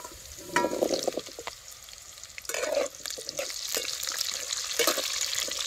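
Sliced onion tipped into a hot pan with cumin and green chillies over a wood-fired stove, with a steady sizzle of frying and a few scraping stirs, close and moderately loud, no talk.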